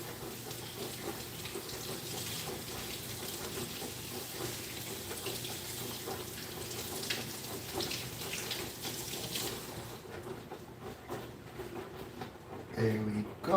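Tap water running over potatoes being rinsed in a kitchen sink, a steady close splashing hiss that fades near the end, with a voice talking faintly at times.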